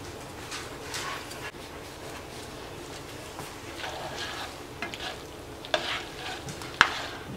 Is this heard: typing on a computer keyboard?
no